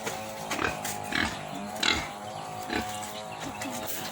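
Pigs on a rural provincial farm grunt and snort in a series of rough bursts at moderate distance, over a steady background hum with a few quiet voices.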